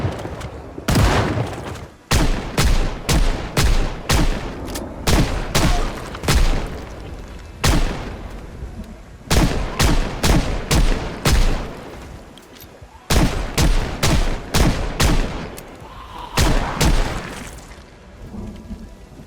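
Shotgun fire cuts down zombies in Project Zomboid: loud, booming blasts in rapid irregular volleys, broken by a few short pauses and continuing throughout.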